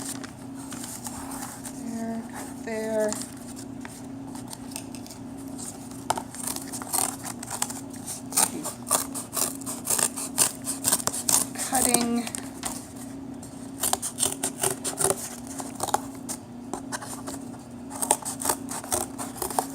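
Scissors cutting through a piece of cardboard, with repeated crisp snips and crunching cuts close by over a steady background hum and a few faint squeaks.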